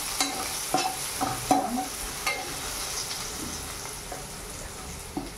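Cumin, chili and potatoes fry in a pan for sabudana khichdi. A steady, close sizzle fills the clip, with repeated scraping and clinking strokes as the mixture is stirred.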